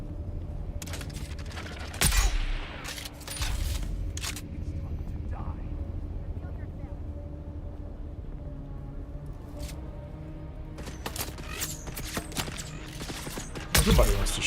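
Gunfire in the sci-fi survival game Dune Awakening: scattered sharp shot bursts and clicks break through a steady droning game backdrop, with louder cracks near the start and end, while a player talks over the action.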